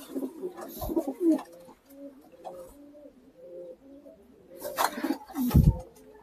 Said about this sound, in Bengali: অরিজিনাল গোল্ডেন কবুতর।